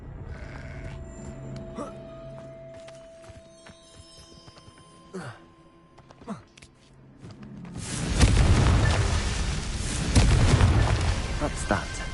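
Confringo fire spell in the game Hogwarts Legacy, a loud rumbling fiery blast that swells and sustains after a stretch of quieter game sounds and brief hits, with a spoken line before it.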